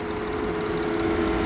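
A 2013 Audi A6 3.0-litre diesel with 313 horsepower idles steadily and evenly, a close, continuous engine hum with no breaks.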